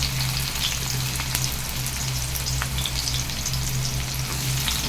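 Small onions dropped into hot oil with popped mustard seeds fry in a steady, close sizzle that holds evenly throughout, with a low hum beneath and no talk.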